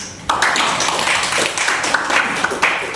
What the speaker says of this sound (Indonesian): tepuk tangan buat itu